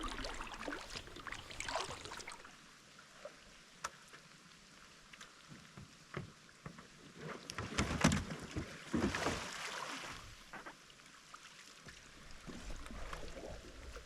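A kayak rolls in cold water, with irregular splashing, sloshing and dripping bursts that swell loudest midway, close by and without talk.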